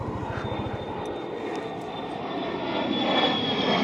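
A Solo Türk aerobatic display jet passes overhead along the Fethiye peninsula, a loud steady roar that builds toward the end, heard above a nearby idling scooter engine.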